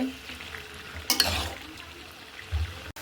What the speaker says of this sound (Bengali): আমি এটা আমার কষানো হয়ে গেছে